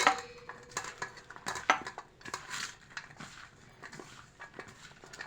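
Onions coated in flour and starch being stirred in a pan while cooking crispy onions for Egyptian koshari, with quiet scraping and clinking of a utensil against the pan, close and fairly faint, with no talking.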